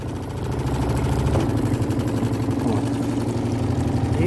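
A boat's outboard motor, shifted into gear beside a pier berth, runs with a steady low droning hum and rough vibration, close by and continuous throughout.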